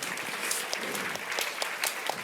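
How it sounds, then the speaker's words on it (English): An indoor audience at an energy forum claps steadily, a dense, even patter of many hands that holds at a moderate level throughout without pause. "Please give them a round of applause."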